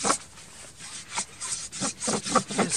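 A bow drill spins a wooden spindle in a socket, giving a steady rhythmic rasping, sawing friction of wood on wood with strokes roughly every half second, close and moderately loud.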